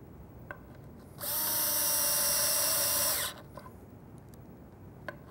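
A power drill drives screws into a wooden cabinet face frame in a single loud, high whine lasting about two seconds, with quiet shop sounds before and after.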